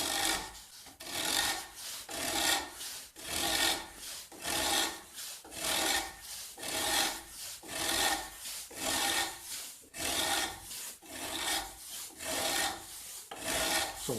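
Hand plane shaving a wooden guitar neck in steady, repeated strokes, each a rasping swish, about twenty passes at an even rhythm, close and fairly loud with no talking.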